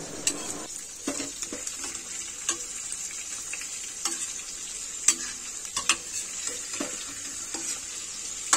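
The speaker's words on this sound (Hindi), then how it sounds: "और चलाते रहिए और इसको ढकते जाइए।" Round gourd (tinda) sabzi sizzles steadily as it fries in a pan, with a spoon stirring and knocking against the pan in close, irregular clinks throughout.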